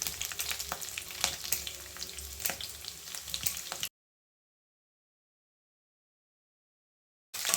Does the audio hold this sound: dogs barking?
no